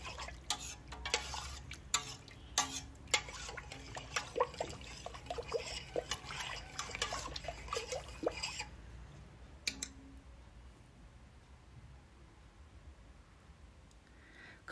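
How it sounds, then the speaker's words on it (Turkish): Lentil soup with hot water is stirred in a pot, giving a series of quiet irregular clinks and sloshing taps for about nine seconds before falling to near silence. "Güzelce karıştıralım."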